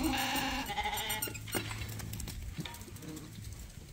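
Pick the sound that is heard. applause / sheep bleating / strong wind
sheep bleating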